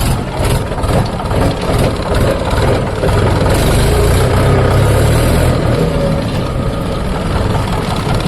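A tractor engine runs loudly and steadily close by, a continuous low chugging rumble with no voices.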